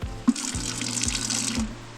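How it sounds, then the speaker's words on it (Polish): Drinking water runs steadily from a tap at a roadside parking area with picnic shelters, a close continuous splashing stream with faint regular low thumps beneath it and no talk. "Jest bieżąca woda pisze, że pitna."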